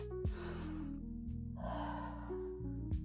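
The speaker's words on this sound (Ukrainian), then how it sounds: "вдих носом видих" A person doing a stretching routine takes a long breath in through the nose and then breathes out audibly, two soft airy breaths over quiet background music.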